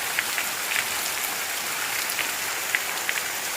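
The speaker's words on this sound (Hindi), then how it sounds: "बहुत तेज़ बारिश हो रही है" Heavy rain falls steadily in Uttarakhand, a dense even hiss with occasional sharper drips and splashes landing nearby.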